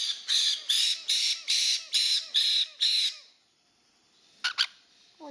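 A white-bellied caique parrot, an adult male, squawks loudly seven times in a steady rhythm, close by, then falls quiet before two short sharp calls.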